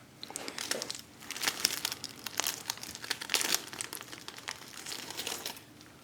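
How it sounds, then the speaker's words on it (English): Plastic wrapping being peeled off a failed air layer on a tree, giving close, irregular crinkling and crackling bursts with brief pauses, no talking over it. "just trying to find an end that I can unwrap and get the moss off and just have a look"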